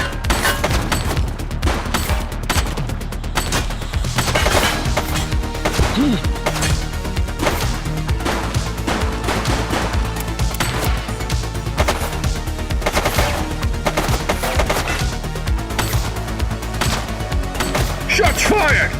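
Gunfire in The Precinct police video game, rapid volleys of loud shots cracking in dense, almost continuous bursts for the whole stretch, layered over game action with faint voices underneath.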